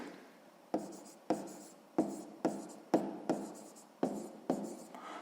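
Pen scratching across paper while working a sixth-grade math exercise, about nine sharp, close strokes in an uneven rhythm, each fading quickly, with no talking.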